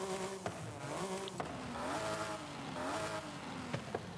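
Stock engine of a 1998 Honda SX-GT concept car in Forza Horizon 5, a steady droning hum with shifting pitch and a few sharp blips, fairly faint and heard alone without talk.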